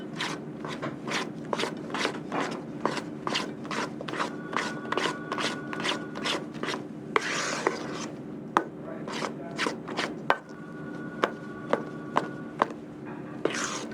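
Cake batter with cocoa powder is stirred by hand in quick, regular scraping strokes, about two or three per second, close and clear, with a brief pause partway through.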